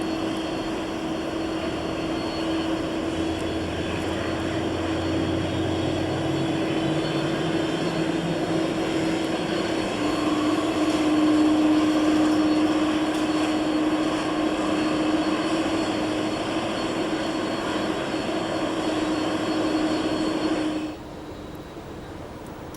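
A Boeing 767-300ER jet engine spooling up from the cockpit, a loud steady roar with a rising whine that holds for about twenty seconds before dropping sharply away.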